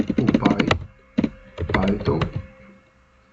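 Clattering computer keyboard keys as someone types Python code in a code editor, quick clusters of near keystrokes separated by short pauses.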